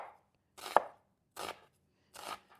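A kitchen knife chopping down through an onion on a cutting board, three crisp, separate strokes spaced about 0.7 seconds apart, close up, with no talking.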